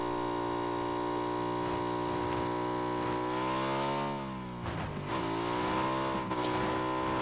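A video game car engine hums as a steady droning note that rises and dips briefly in pitch midway before settling again, continuous and fairly loud throughout with no speech.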